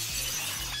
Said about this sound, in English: That glass is about to break.